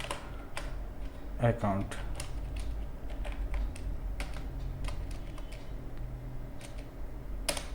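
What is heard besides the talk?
typing on a computer keyboard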